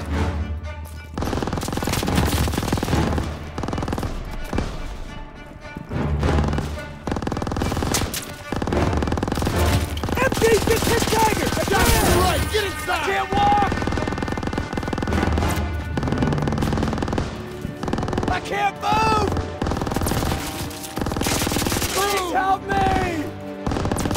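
Machine gun fire on a World War II street battle in Call of Duty WWII, long bursts and scattered gunshots with blasts, loud and near, while soldiers shout orders.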